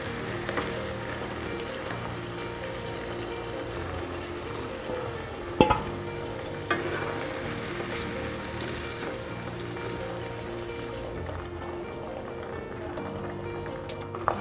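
Onions sizzle and crackle in hot oil in a home kitchen pan for a chicken curry, a steady close frying hiss with a few sharp clinks of a spoon stirring, no talk.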